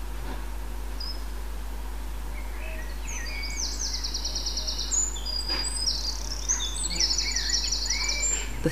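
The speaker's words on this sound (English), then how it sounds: "The threatening sounds of the alarm calls have been replaced by the sweet warble of the wren." Wren warbling in bouts of quick, high, trilling notes, moderately distant over a constant low hum, growing busier toward the end.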